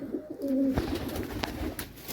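A pigeon coos in a low, throaty burst close by, followed by softer rustling and faint background noise.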